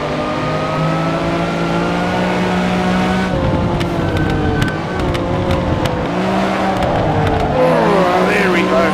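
A car engine revs and whines continuously while drifting in a VR sim-racing game, pitch sweeping up and down through slides with tire squeal, loud and close, with a voice talking over it.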